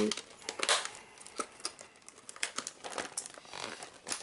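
Crackly, crinkling packing tape being pulled and peeled off a board game box in short bursts, close up, with faint rustling between pulls.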